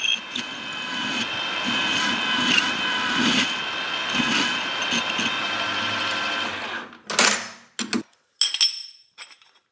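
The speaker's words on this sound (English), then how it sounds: "here I'm machining the little recess to make room for the little bolts" Milling machine cutting a small recess into an aluminum part, a steady loud whine with harmonic tones running for about seven seconds, then stopping into a few short separate bursts as the cutter winds down and is repositioned.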